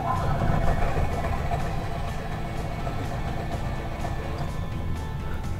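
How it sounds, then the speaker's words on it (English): An RV generator on a Thor Gemini motorhome cranks and tries to start without fully catching, a steady low engine rumble running close and loud for several seconds. "generator attempted to start, it did not fully start"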